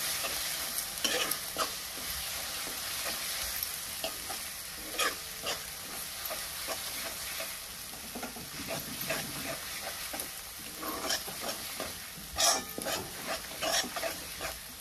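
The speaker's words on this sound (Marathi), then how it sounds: "एक 2 मिनिटं आपल्याला ही मसाला असा तेलामध्ये हलवायचा." Masala stirred and fried in oil in a pan for Marathi misal pav: a steady sizzle with scraping spoon strokes throughout, moderately loud and without any talk.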